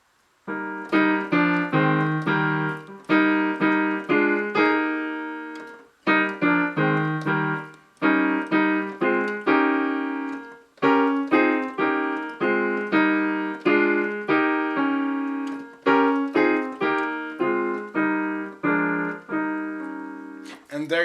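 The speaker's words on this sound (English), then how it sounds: "Now harmonized with the African block chords sounds like this." Piano playing the Ghanaian praise tune Yesu N'adom harmonized with African block chords, full rhythmic chords struck in quick repeated phrases with short gaps, loud, close and unaccompanied.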